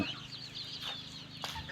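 Chickens clucking softly nearby in short bursts inside a newly built budget chicken coop, over a low steady hum, with no voices.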